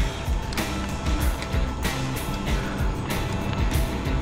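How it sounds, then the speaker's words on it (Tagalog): A vehicle on the Cebu Transcentral Highway gives a heavy, continuous low rumble, with brief swells of road and wind noise rising and falling throughout and no talk. "May naririnig na sasakyan."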